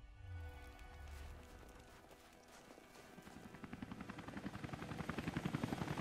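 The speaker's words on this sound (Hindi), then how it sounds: "गाइस ये हेलीकॉप्टर जो है वो काफी खतरनाक है" A helicopter in Rise of the Tomb Raider rises from a low rumble into a fast, loud rotor chop that grows stronger and nearer toward the end.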